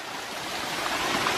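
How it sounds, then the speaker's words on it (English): Broadband rushing water from a waterfall in a jungle-like garden in Pattaya, a steady continuous roar at moderate distance with no speech over it. "Waterfalls and everything, look."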